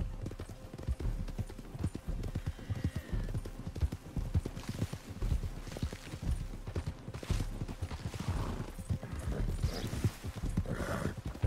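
Horses ridden at a steady pace in Red Dead Redemption 2, rhythmic clip-clop of hooves throughout with occasional snorts and tack rattling, fairly close and continuous.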